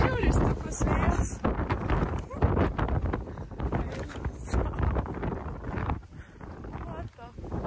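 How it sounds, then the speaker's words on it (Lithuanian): Very strong wind on a London street buffets the microphone in a loud, continuous rumbling roar with gusty surges, staying dense and heavy throughout. "Žiauriai stiprus vėjas."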